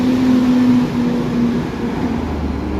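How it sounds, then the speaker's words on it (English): A loud bus passes on a downtown Toronto city street, a heavy steady engine drone with a sustained low hum that eases slightly as it moves along. "A loud bus."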